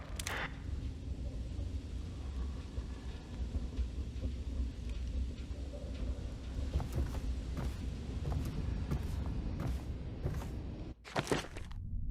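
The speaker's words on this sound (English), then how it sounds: "The storm's rising." Thunderstorm in the video game Dishonored: a steady low rumbling roar of wind and rain fills the scene, with scattered sharp crackles and a brief dropout near the end before the storm noise returns.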